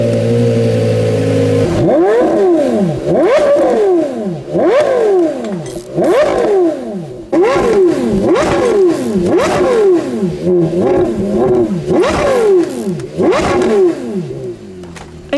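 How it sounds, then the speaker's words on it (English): A Porsche Carrera GT engine revs repeatedly, rising and falling in a rhythmic series of sharp, loud blips with a howling, racy exhaust note that is close and alone, following a brief idle. "basically nothing sounds as good as the Carrera GT"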